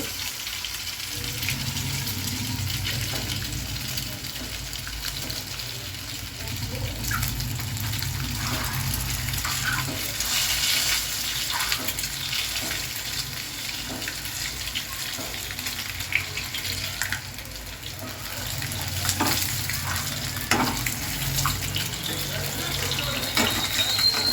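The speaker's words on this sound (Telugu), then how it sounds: "ఇలా గోల్డెన్ కలర్ వచ్చేలాగా మంచిగా వేసుకోవాలండి గుడ్లు" Eggs frying in oil in a pan until golden for an Andhra-style broad bean and egg curry, a steady close sizzle and crackle that runs throughout with faint clinks now and then.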